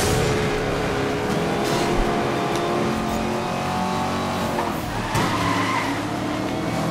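A Lexus drifts in Need for Speed Most Wanted with a loud, sustained tire squeal over a droning engine that surges and dips briefly partway through.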